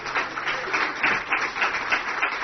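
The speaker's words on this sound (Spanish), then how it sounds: "Un aplauso para mi hija Carolina." Audience applause at a book presentation, a steady dense patter of many hands clapping without pause, fairly close and filling the room.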